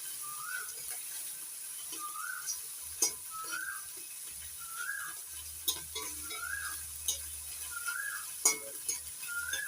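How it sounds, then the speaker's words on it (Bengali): Small morola fish fry in hot oil in a kadai, giving a soft, steady sizzle with occasional clinks from turning the pieces, while a repeated chirping tone sounds faintly in the background. "বাকি মরলা মাছগুলো উল্টে পাল্টে ভেজে নিয়েছি"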